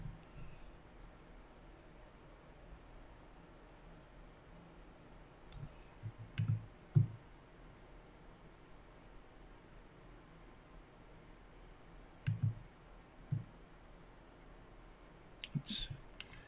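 Sparse computer mouse clicks, single and paired, land at irregular moments over a low steady background hiss while a 3D retopology tool is used.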